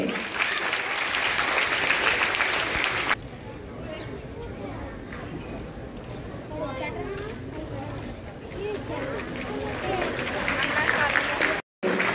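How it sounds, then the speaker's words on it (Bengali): Loud applause from an audience at a road safety poster and slogan award ceremony fills the first few seconds. It then drops to a murmuring crowd while a voice speaks over a public address. "একটি জোরে করতালি হবে।"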